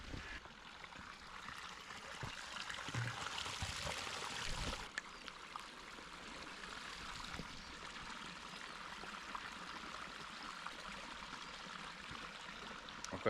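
Cold spring water flows and trickles steadily at a natural spring beside the Nemunas river, a continuous close rushing wash with no voices over it.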